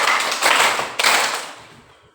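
Children in a classroom clap hands in a counted rhythm game, two loud close bursts of clapping that then die away into quiet.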